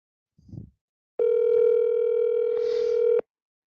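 Telephone dial tone heard while placing a call: a brief muffled thump, then a loud steady two-second tone that cuts off abruptly.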